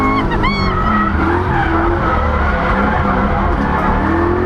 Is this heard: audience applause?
no